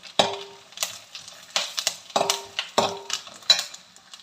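Cashews are tossed in a pan with roasted coconut for banana payasam, giving repeated scraping stirs in a loose rhythm over a faint sizzle, close and moderately loud.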